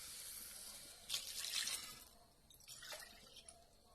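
Water from a measured cup, about two and a quarter cups, poured into a pan for cashew upma, a soft splashing pour in two short bursts, near and alone.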